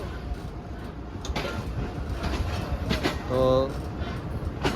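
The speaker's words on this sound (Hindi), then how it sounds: "बदोमली स्टेशन पर 10 डाउन इलामा इकबाल एक्सप्रेस पहुंच चुकी है" The Allama Iqbal Express 10DN pulling into Badomali station on the Sialkot to Lahore route makes rumbling, clattering railcar noise with squeals and a brief tonal whine, while someone talks over it.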